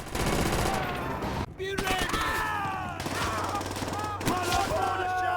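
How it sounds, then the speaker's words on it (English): A mounted machine gun in a Call of Duty World War II campaign mission hammers out long, rapid bursts against German soldiers, dense and loud, with shell clatter and battle noise around it and one short pause midway. "your classic Call of Duty trademark mounted machine gun part of the campaign mission where you just mow down a ton of Germans"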